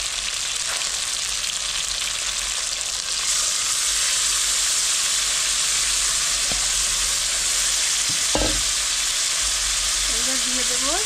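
Spice paste for tilapia posto fries in a pan with a steady, loud, close sizzle that runs throughout, with a few faint clinks and brief voice sounds at the end.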